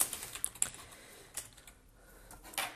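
Keystrokes on a computer keyboard while entering website, email and social media details, a scattered run of light clicks in short bursts with pauses, close and fairly quiet.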